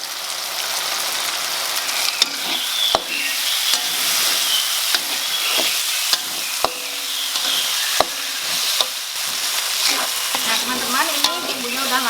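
Spice paste with torn lime leaves fries in oil for goat curry, a steady loud sizzle broken by frequent scraping strokes and sharp clicks of a spatula against the pan.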